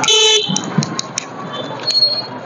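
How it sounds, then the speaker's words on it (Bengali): A Suzuki Gixxer 250 motorcycle's horn sounds once briefly at the start, thin and fairly weak, followed by light road and traffic noise. "আর হর্নটা একদমই স্লো বাজে"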